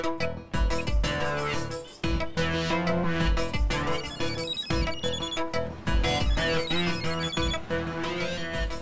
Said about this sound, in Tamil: மாப்பிள மறுபடியும் போன் பண்ணுது, யோசிக்காம எடுத்து பேசு